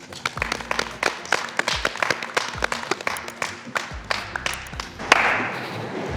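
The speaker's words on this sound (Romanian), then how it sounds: "Haideți să-i dăm un rând de aplauze." An audience claps at a football pitch, a burst of uneven hand clapping for several seconds that swells into louder, denser applause near the end.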